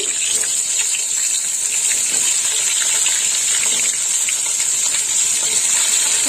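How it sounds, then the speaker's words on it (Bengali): Long slices of eggplant frying in hot oil, giving a loud, continuous hissing sizzle with a bright, steady texture and no talking. "এবার আমি বেগুনটা ভেজে নেবো"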